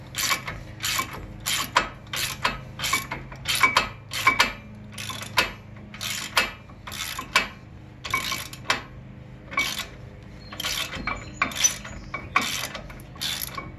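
An 18mm socket ratchet works the caliper carrier bolts on a 2011-2018 Volvo S60 during a brake job, giving a steady series of sharp, close clicking bursts in a regular rhythm, alone without talk.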